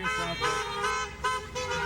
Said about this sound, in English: Cars lining up around the block, honking to say happy birthday